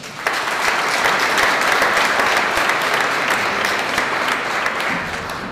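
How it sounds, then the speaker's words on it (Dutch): Loud, sustained audience applause for a speaker, Janka Vleerakkers, introduced at a Thought Leaders Academy event, a dense steady wash of clapping that holds evenly for several seconds without talk. "een daverend applaus voor Janka Vleerakkers"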